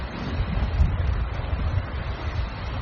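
Storm wind buffeting a camera's internal microphone inside a weatherproof casing: a low, uneven rumble that swells and eases in gusts, muffled and close, with no voices.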